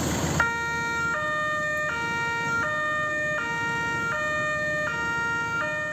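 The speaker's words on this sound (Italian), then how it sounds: "Le sirene blu delle auto della polizia locale suonano" A two-tone siren of local police cars in Italy wails steadily, alternating pitch in a regular rhythm, loud and close with no voices.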